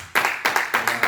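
A church congregation clapping together in a brisk, even rhythm of about five loud, close claps within a second, with no talking.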